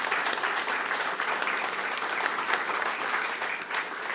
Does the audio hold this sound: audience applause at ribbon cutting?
yes